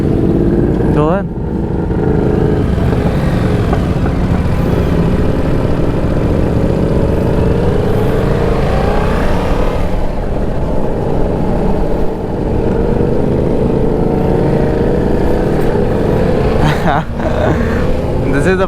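Several motorcycles ride together in a group, their engines droning and revving steadily close by for the whole stretch, with wind rush and a few louder passes.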